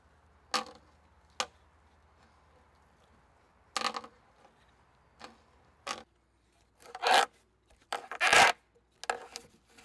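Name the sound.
hand drill boring into fresh wood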